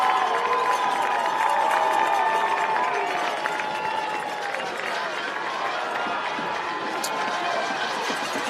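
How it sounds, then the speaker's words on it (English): Crowd at a college football stadium game between West Texas A&M and Western Oregon, a broad, sustained roar of cheering and shouting from the stands at steady loudness, with scattered applause and some voices in the mix. "asking the crowd to generate some noise"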